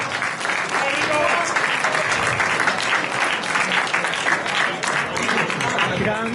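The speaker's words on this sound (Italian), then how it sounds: "un applauso a questo ragazzo" Crowd applause for Igor at a winter party in a Cadoneghe restaurant pizzeria: dense, steady clapping from a roomful of guests runs throughout at a constant loudness, with voices mixed in underneath.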